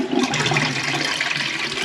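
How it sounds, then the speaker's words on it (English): A toilet being flushed during a bathroom remodel repair, a loud close rush of gushing water that continues steadily throughout. "So we'll do a little bit of a flush"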